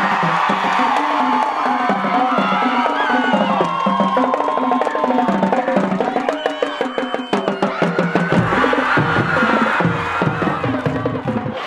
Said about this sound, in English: As the Blair Oaks Falcons band gets a big applause here on their final show of the season